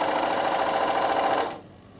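A domestic sewing machine runs in a steady, even whir while stitching fabric forward and in reverse for a strong seam, then stops abruptly, leaving near silence.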